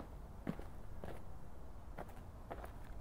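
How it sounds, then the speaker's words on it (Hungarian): Footsteps crunch through a forest at night, about five evenly spaced soft steps close by against a quiet, steady background hiss, with no voices. "Halljátok ezeket a lépéseket? Mintha valaki itt mászkálna."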